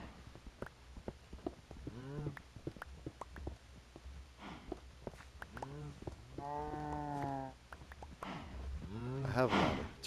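Cows moo in a series of drawn-out, rising and falling calls, several overlapping at moderate distance, with occasional voices in the background.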